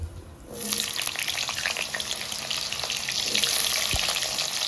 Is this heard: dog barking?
no